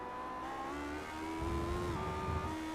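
Engine of a struggling Lotus 79 race car in a racing video game, a steady droning whine with wavering pitch that dips and recovers, moderately loud over a low rumble, with no talk.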